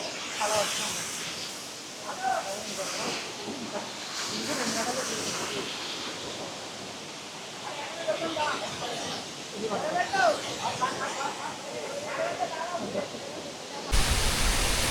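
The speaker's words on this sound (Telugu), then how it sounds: "చాలా ఫోర్స్ వస్తుంది వాటర్, ఆ పై నుంచి వస్తుంది వాటర్." Strong water rushing down at Araku, a steady broad roar of falling water that fills the scene from start to end, with voices talking over it.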